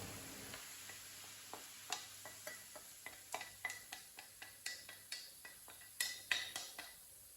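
Onion, garlic and carrot fry in a pan and are stirred, giving a steady low sizzle broken by repeated scraping clicks and taps of a utensil against the pan, close and clear with no talking.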